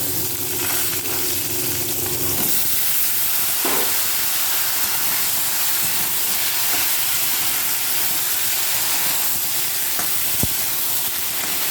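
Potatoes, pointed gourd and ridge gourd frying in hot oil with panch phoron and dried chilies: a dense, constant, loud hiss with a few faint clinks now and then.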